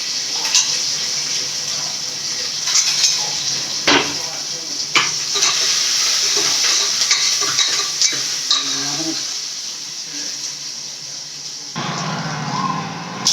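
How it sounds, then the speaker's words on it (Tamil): Onions and curry leaves sautéing in a pan for a fish curry, a continuous bright sizzle close by with occasional scrapes and knocks of a stirring spoon, changing character near the end. "வெங்காயம் போட்டுக்கலாம். வதக்கலாம்."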